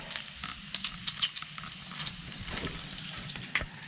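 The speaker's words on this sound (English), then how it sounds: "Bacon's getting cooked." Bacon frying in a pan at a snowy ski trail sno-park campsite, a steady soft sizzle and crackle with occasional sharper pops and faint clinks, fairly quiet and without talk.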